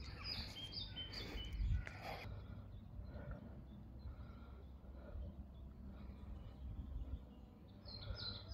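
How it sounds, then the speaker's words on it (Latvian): Birds singing in a bird garden on the grounds of a manor park during a summer walk, faint scattered chirps and short calls over a low background rumble, distant and quiet without speech. "šeit mājo daudz putnu sugas"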